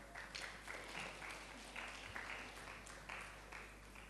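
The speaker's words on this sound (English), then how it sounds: "Will you give him a clap?" An audience claps for a volunteer at a talk on digital health, a soft, continuous patter of applause from a room of people, fairly distant and steady for a few seconds.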